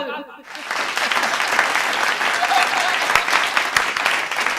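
A Hindi comedy poetry show audience bursts into loud, sustained applause that swells after a brief pause and holds steady, a dense wash of clapping from a large crowd.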